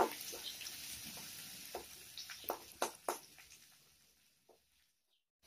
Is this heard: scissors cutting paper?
no